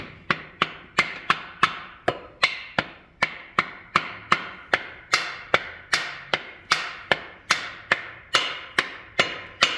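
A hammer taps steadily on metal, driving a cam bearing into a Chevy LS engine, about two sharp strikes per second in a long even series, close and alone.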